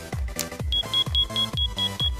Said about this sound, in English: we have a smoke detector. And what it does is whenever there's a fire, it'll start beeping really loud